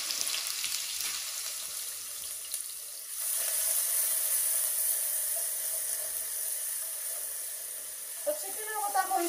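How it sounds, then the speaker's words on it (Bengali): Black pepper, cloves, cardamom, bay leaf, then ginger and garlic frying in hot oil, a steady close sizzle and hiss that swells midway, with faint stirring clinks near the end. "গোলমরিচ লং এলাইচ তেজপাতা দিলাম এখন আদা রসুন দিলাইরাম"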